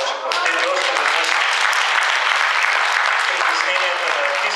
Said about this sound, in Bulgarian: сега мощни аплауси за нашите скъпи артисти